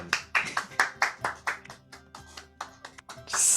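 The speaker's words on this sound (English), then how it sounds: "Yeah, slow claps." Slow, deliberate hand clapping, about a dozen evenly spaced claps close by, slightly uneven in loudness, ending in a brief burst of noise.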